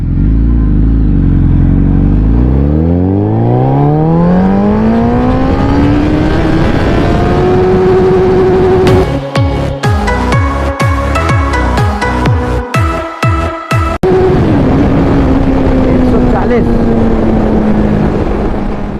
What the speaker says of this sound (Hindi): अब ए मोड में देखेंगे कि फर्स्ट गियर में कितनी जाएगी